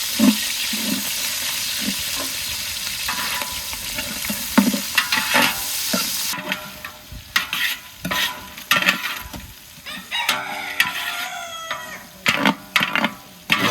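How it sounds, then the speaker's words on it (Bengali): Onion and garlic fry in oil for bhuna khichuri with country chicken, a steady close sizzle broken by repeated scraping stirs of a spatula and occasional clatter against the pan. "পরিমাণ মতো তেল দিয়ে দেব, পেঁয়াজ আর রসুন"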